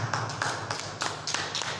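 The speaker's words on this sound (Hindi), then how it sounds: "आइए सब लोग यीशु मसीह के लिए ताली बजाएं" A congregation at a prayer service claps for Jesus in a steady, rhythmic beat of sharp, fairly close claps about every quarter second, with no talking.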